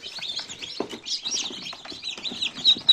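Newly hatched chicks cheeping inside an incubator, a busy overlapping chorus of high, thin peeps close by, some calls louder and sharper than others, with faint soft bumps underneath.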